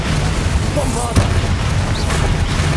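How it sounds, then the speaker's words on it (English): A Bombarda blasting spell detonates in Hogwarts Legacy with a short, deep boom that rises over a dense, noisy game soundscape, while a voice is heard. "Bombarda."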